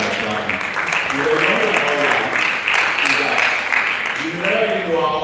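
An audience at a Slum and Rural Health Initiative (SRHIN) event applauds, with continuous clapping filling the room and a voice speaking over it at the end.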